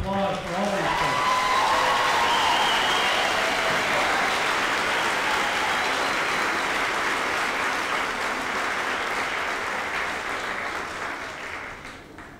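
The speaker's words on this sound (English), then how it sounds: "A round of applause for all these folks." A graduation crowd at an alternative high school ceremony applauds award recipients, a broad, sustained roar of clapping that holds steady for many seconds before tapering off, with a voice briefly heard at the start.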